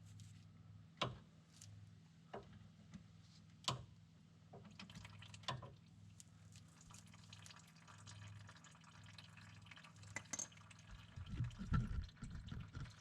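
Brake fluid runs from an opened bleeder valve under about 10 pounds of pressure, a faint steady trickle with scattered drips and small clicks beneath a low mechanical hum.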